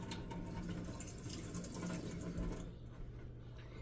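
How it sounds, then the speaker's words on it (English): Tap water runs steadily as a hand is rinsed under it in a home kitchen, a close, continuous splashing rush that thins out near the end. "I'm going to rinse my hand a little bit here with one hand here."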